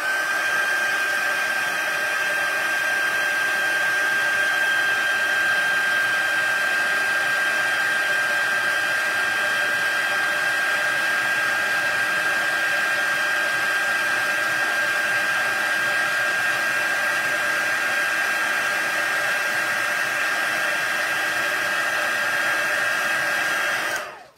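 An embossing heat tool blows continuously over embossing powder on a handmade card, a loud, close, steady whirring hum with a constant high whine that runs unbroken before cutting off at the very end.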